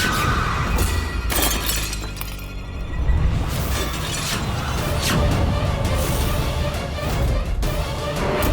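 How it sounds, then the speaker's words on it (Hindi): Loud shattering and breaking glass in a Hindi TV drama scene, a dense crashing clatter of fragments that continues for several seconds with repeated bursts and no talk over it. "शीशा टूट गया।"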